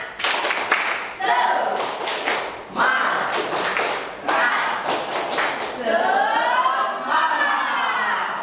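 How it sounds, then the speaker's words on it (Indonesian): A group performs the rhythmic 'tepuk semangat' spirit clap, sharp bursts of claps in quick patterned volleys, loud and close, followed by voices calling out together. "Tepuk semangat."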